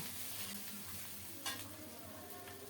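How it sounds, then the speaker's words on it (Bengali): Garlic and ginger paste stirred and sautéed in a pan while making an egg curry, giving a steady close sizzle with faint scraping and one brief louder clink partway through. "রসুন বাটা আদা বাটা আদা রসুন বাটা দিয়ে কিছুক্ষণ নেড়ে চেড়ে ভালো করে কষিয়ে নেব"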